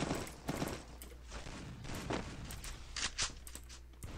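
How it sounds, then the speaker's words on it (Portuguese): Gunfire in the Free Fire battle royale game during a solo ranked match, with several sharp shots and bursts spread across the few seconds over a steady background of game ambience. "o maluco meteu dois tiros em mim aqui"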